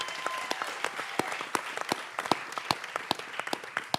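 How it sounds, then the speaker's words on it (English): Lively applause from a conference audience at a human-rights economy gathering, with distinct individual claps sounding close over a dense wash of clapping throughout. "ask you to give yourselves another round of applause for being amazing"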